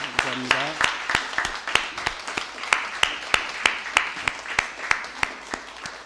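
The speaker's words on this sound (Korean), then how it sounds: "우리 한번 격려의 박수 한번 보내주세요" A church congregation claps in encouragement during a Sunday worship service, steady evenly spaced claps ringing out in a reverberant hall, with some voices at the start.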